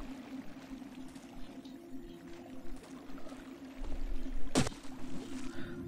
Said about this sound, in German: Und hier ist ein Fluss.